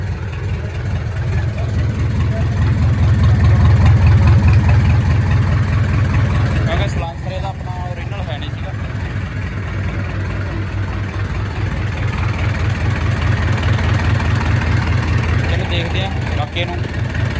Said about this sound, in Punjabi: ਆਪਣਾ ਪਾਵਰ ਟਰੈਕ ਸਟਾਰਟ ਹੋ ਗਿਆ ਸੀਗਾ ਤੇ ਫਿਰ ਆਪਾਂ ਰਨਿੰਗ ਕਰਾਉਣਾ ਟਰੈਕਟਰ ਦੀ